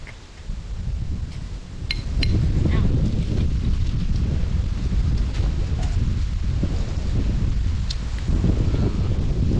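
Wind blowing across open rice fields in the countryside, a steady loud rushing roar with microphone buffeting that swells after the first couple of seconds and holds continuously, with faint rustling underneath.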